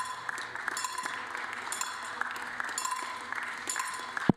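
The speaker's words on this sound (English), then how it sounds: "It just adds to the sound here of the clapping and the tapping on chairs." At a 10m air rifle mixed team final, spectators clap and tap on chairs in a dense, steady rhythm, with one louder sharp hit near the very end.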